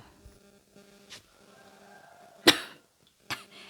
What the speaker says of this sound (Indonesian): Ini baru batuknya tadi.